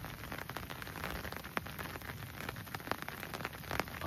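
Steady rain falls on a rice paddy during snakehead fishing, a dense, close hiss of drops with scattered sharper ticks and spatters throughout.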